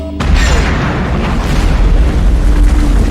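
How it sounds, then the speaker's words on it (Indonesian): A bomb goes off in the film The Fifth Element, a sudden loud boom followed by a sustained roaring, rumbling blast that fills the rest of the moment with no voices. "Dan salah satu dari senjata itu adalah bom."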